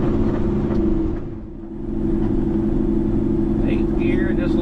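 Truck in 8th gear with its engine brake running while creeping past tree limbs, giving a loud, steady low rumbling drone throughout with a brief dip in the middle.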